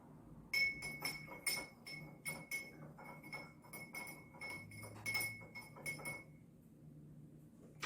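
A spoon stirs sugar in a glass for an Old Fashioned cocktail, producing a quick series of bright metallic clinks against the glass, close and distinct, ending after several seconds.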